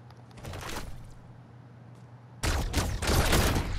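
A gun in a video game fires in bursts: a short rattle near the start, then after a quieter stretch a loud, sustained volley of rapid shots.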